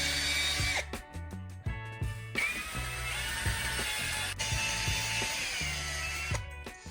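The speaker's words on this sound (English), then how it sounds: "Now drill the damaged hole a little wider and cleaner." A power drill widens and cleans a damaged screw hole for a broken door hinge, whirring loudly in repeated bursts with abrupt starts and stops and a rattling, ratchet-like grind.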